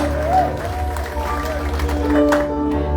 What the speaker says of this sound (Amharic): እልልታችሁን፣ ጭብጨባችሁን፣ ፉጨታችሁን ለጌታ አምጡለት